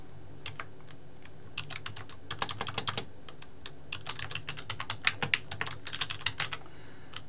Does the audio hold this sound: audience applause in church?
no